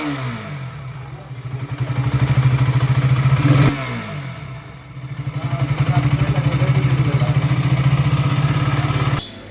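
A KTM RC200 motorcycle is started and revs in two bursts, its single-cylinder engine throbbing loud and close, dipping to a brief lull between runs and cutting off near the end.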